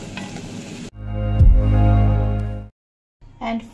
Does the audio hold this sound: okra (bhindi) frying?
yes